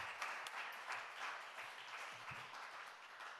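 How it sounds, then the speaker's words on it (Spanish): Faint, distant applause from a small audience at a talk on photobooks, a soft continuous patter of clapping with no voices over it. "Aplaudimos también a Julián"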